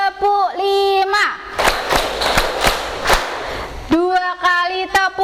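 A standing group claps hands in unison five times, loud, sharp, evenly spaced claps ringing out between a voice chanting before and after.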